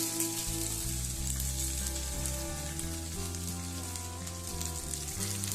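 Ivy gourd (kovakkai) being sautéed in a pan gives a steady, continuous sizzle throughout, with a sustained tonal hum running beneath it.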